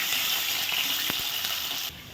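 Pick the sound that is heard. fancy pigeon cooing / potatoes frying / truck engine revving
potatoes frying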